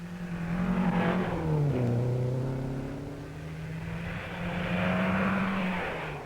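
Triumph Herald rally car in the 1960 Monte Carlo Rally cornering at speed on a thawing road, engine note rising and dipping as it drives close by, loud and continuous.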